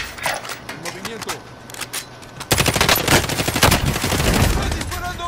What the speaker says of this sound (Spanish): Estoy disparando.